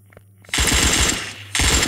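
Rapid automatic gunfire from a secondary weapon in an offline Android shooter game, loud and close, two sustained bursts split by a short pause, starting after a brief lull.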